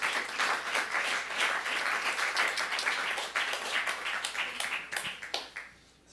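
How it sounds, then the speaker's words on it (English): An audience claps in welcome for a pianist, composer and singer at the close of a jazz workshop day, a steady broad wash of many hands that thins and fades out near the end. "Please, a big round of applause for her."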